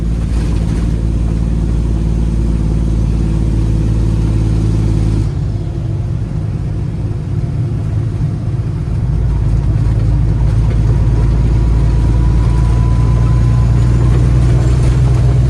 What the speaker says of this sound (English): The Jakes sound good in this thing.